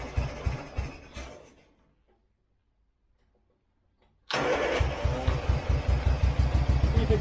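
An A-series engine in a Turner Ranger mini tractor sputters and dies into silence, then restarts and runs loud and close with an uneven, lumpy, misfiring beat.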